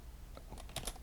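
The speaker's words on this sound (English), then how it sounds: "so I guess let me go ahead and type it in" A few quick, soft keystrokes on a computer keyboard, quiet and close, in a short burst with no talking.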